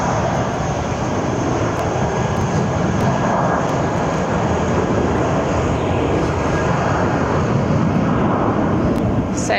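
A Level airline jet takes off from Barcelona airport with a steady, loud, broad engine roar that holds evenly for nearly ten seconds.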